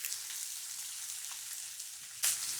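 Very thin ribeye slices sear in a little oil, giving a soft, even, close sizzle with faint crackles and one brief louder pop near the end, with no speech.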